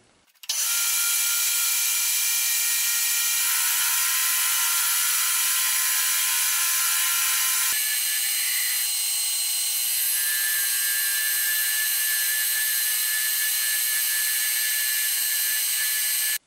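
A metal lathe turns a piece of scrap stock down to just over 24 mm diameter, giving a steady, loud, continuous whining hum with sustained tonal ringing that shifts in pitch partway through, with no speech.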